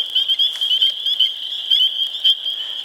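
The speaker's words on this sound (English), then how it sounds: "But you can tell it's a spring peeper, partly because of the size, but also those markings on the back." Spring peeper frogs call at night in a steady, high-pitched chorus, a continuous shrill trilling peep that stays close and fairly loud throughout.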